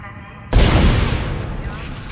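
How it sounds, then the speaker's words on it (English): A weapon fires in the Dead Space video game: one sudden, loud blast that cuts in sharply and then rolls off into a long reverberant decay. "I'm gonna shoot it."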